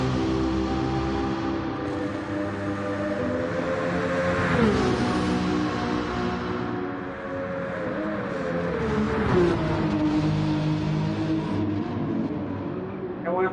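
Nissan Skyline R34 GT-R V-Spec II Nür '02 engine in Gran Turismo 7 on a time trial, droning steadily with pitch rising and falling through gear changes, while someone talks over it.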